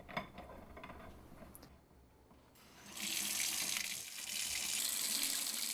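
A kitchen faucet fitted with a 1.5 gallon per minute aerator runs steadily, its close, hissing water stream swelling louder after a brief quieter pause and continuing without any voices.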